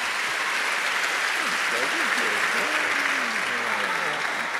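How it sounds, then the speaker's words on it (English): Audience applause at a church conversation event with pastors, thick sustained clapping at a constant loud level, with a voice speaking faintly partway through. "can we give him a round of applause?"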